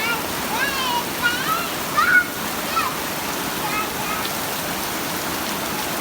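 Floodwater pours into a house with a loud, steady rushing splash, and a voice speaks briefly over it.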